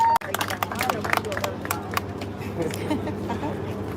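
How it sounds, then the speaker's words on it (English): Audience applause for a speaker at Atlanta city hall during a veterans' event: dense, steady clapping from a crowd with murmured voices underneath, sustained throughout after a brief cutoff at the start. "Please give a warm applause to Mick."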